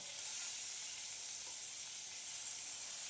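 Onion fries gently in a spoon or so of oil over a low gas flame, giving a soft, even, continuous sizzle heard close up with no voices.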